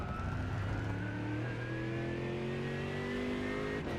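A Mercedes AMG GT3 race car in iRacing at Monza screams steadily upward through its gears, the engine tone climbing then dropping sharply at a shift, loud and continuous throughout.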